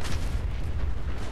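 A heavy, booming explosion in the video game Fallout 4 rolls out, a single deep blast with a rumbling tail filling the short moment.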